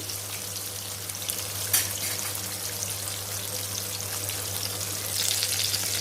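Masala-coated vanjaram fish deep frying in a covered pan gives a steady, dense sizzle throughout, close and even, with one brief sharper crackle burst near the start and no talking.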